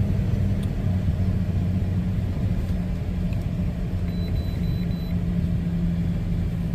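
A Toyota Land Cruiser 200 Series engine idles on a cold start with a steady, close low rumble and a faint constant hum, no voices over it.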